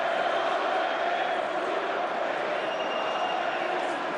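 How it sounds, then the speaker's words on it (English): Football stadium crowd at Stuttgart v Hoffenheim roars steadily during the match, a dense, loud, continuous wash of cheering and noise with no breaks. "Crowd loving every minute of it."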